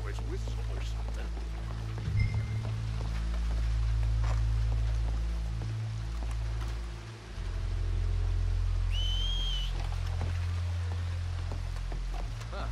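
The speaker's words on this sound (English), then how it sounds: "Did someone whistle out here?" In Red Dead Redemption 2, a single faint whistle sounds out by the water, briefly rising over a low droning score and soft rain-like ambience.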